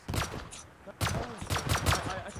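Rapid bursts of gunfire in the survival game Rust during an offline raid, with several sharp shots in quick clusters and a voice talking briefly in between.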